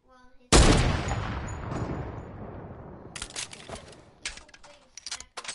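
Gunfire against a built wall in Fortnite: a loud sharp blast that decays slowly, followed by clusters of quick, crisp impact shots after a pause.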